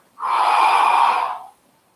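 A long, steady exhale, close and breathy, runs for over a second before tapering off, breathing all the way out during a breath-work stretching session.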